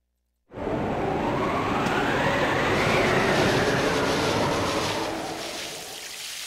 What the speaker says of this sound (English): The train headed for Station Square will be departing soon.